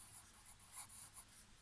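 Pen or pencil writing out a large number on paper for a maths exercise, a soft continuous scratching with small strokes and pauses, quiet and close.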